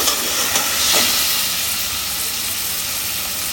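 Ground spices, chili powder and ginger-garlic paste sizzling and frying in a pan for Bangladeshi masoor dal with drumsticks, a loud continuous hiss close by.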